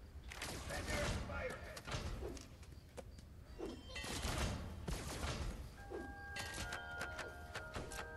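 Gunfire and booming impacts from Five Nights at Freddy's: Help Wanted 2 as a rocket is shot, several loud bursts and rumbling crashes followed by a ringing electronic tone, with a voice talking underneath.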